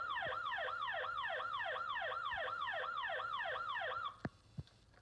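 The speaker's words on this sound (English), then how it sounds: "Okay, siren 3." A 2005 Hess toy emergency truck sounds its third siren tone, a steady rapid wail that rises and falls about twice per second for four seconds, then cuts off, followed by a couple of sharp clicks.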